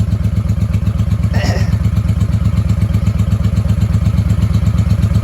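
A 1995 Honda Shadow VLX VT600CD motorcycle engine idles steadily with a rapid, even low throb throughout, plus a brief clatter near the start.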